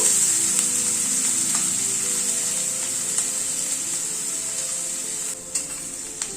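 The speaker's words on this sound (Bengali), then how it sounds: "গ্যাসের ফ্লেমটাকে মিডিয়ামে রেখে পেঁয়াজটাকে একটু ভেজে নেব।" Sliced onions fry in oil in a pan over a medium gas flame, giving a steady close hiss and sizzle with occasional soft stirring scrapes and crackles, and no voices.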